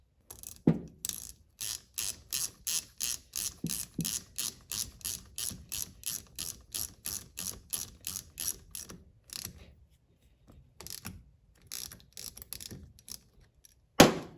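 A ratchet wrench tightens a bolt on the power valve of a Suzuki RM 85 two-stroke dirt bike during a top-end rebuild, clicking in quick rhythmic bursts up close with short pauses between strokes.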